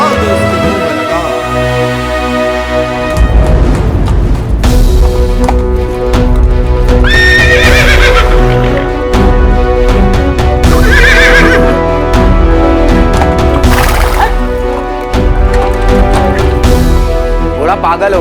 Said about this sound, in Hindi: घोड़ा पागल हो गया, कोई पागल ही इसे ठीक कर पाएगा।